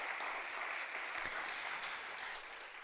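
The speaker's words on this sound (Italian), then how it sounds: "Un applauso ai nostri relatori." Audience applause at a statistical report conference in the Veneto, a steady dense clapping from a full room that holds evenly for a few seconds before easing slightly, with no talk over it.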